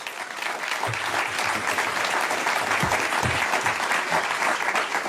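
An audience at a public report presentation on the State of Black LA claps steadily for several seconds, a dense, even wash of many hands that holds level throughout.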